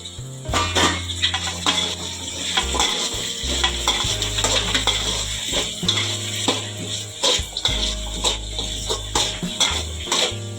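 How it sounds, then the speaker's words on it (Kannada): Chopped chayote is fried and stirred in a pan, a steady sizzle under repeated scraping and clanking of a spatula against the pan, close and fairly loud throughout. "ಈಗ ನಾವು ಕುಯ್ದಿಟ್ಕೊಂಡಿರೋಂಥ ಸೀಮೆ ಬದನೆಕಾಯಿನ ಹಾಕ್ಕೊಳ್ಳೋಣ"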